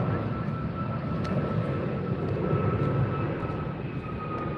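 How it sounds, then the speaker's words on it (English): A French Bee jet airliner taxiing for departure at LAX on the north side, a loud, steady jet engine rumble and whine that continues unbroken, heard from the beach with no talk. "the French bee is taxiing up for departure now on the north side"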